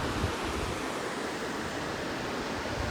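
Fast, swollen river current rushing beneath an iron footbridge near a village, a dense steady roar of water filling the whole clip with no pauses or talk.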